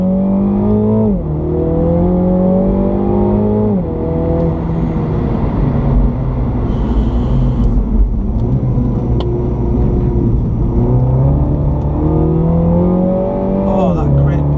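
A new Mini GP3 driven hard around a race track on a track day, its engine loud and continuous in the cabin with rising and falling revs through gear changes, low rumble throughout.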